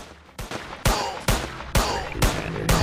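Cartoon small gun fired at aliens, a series of about six loud, sharp shots spaced roughly half a second apart, each with a short ringing tail.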